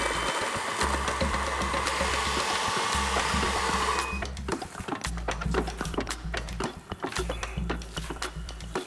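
An electric grinder whirs steadily while grinding garlic with fish sauce for Korean kimchi, a loud motor hum that cuts off midway and gives way to clattering kitchen handling noises.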